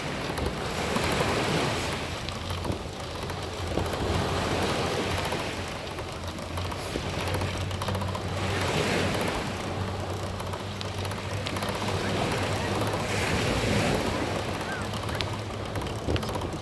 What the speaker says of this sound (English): the waves are being decent